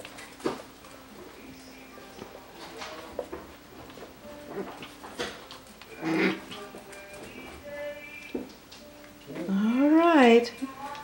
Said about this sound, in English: So here are my Maze puppies playing with Luna's little puppy.